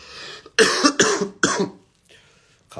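Three harsh, close coughs in quick succession, followed by a quieter breath and the start of another cough.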